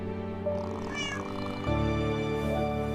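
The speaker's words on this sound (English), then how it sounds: "a little cat." A little cat meows twice indoors at night, close and clear, over a steady low background hum.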